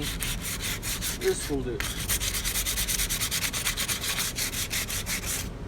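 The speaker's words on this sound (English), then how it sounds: "take like some 60 grit sandpaper and start to smooth it all out" Rapid, rhythmic scratching of coarse 60-grit sandpaper rubbed by hand over Bondo filler on a bike frame, loud and close, with a brief spoken remark under it.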